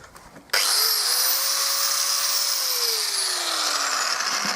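A power tool cuts through a metal trailer part, starting abruptly with a loud, steady high-pitched whine and grinding rasp whose pitch sags slightly as it bites, close and continuous without speech.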